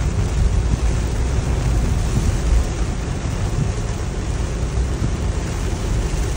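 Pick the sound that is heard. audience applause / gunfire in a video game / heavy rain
heavy rain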